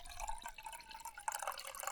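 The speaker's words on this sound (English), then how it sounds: "I'm just measuring out some water now for" Water trickles and drips as it is poured and measured out for a dehydrated camping dinner at a wild campsite, a faint, close, steady liquid splashing for a couple of seconds.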